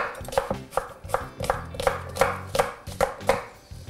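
A knife cubes an apple on a cutting board, with a close run of about a dozen crisp, evenly spaced chops in a steady rhythm.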